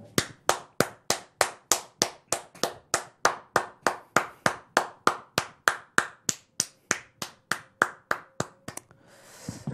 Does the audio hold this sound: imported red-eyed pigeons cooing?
no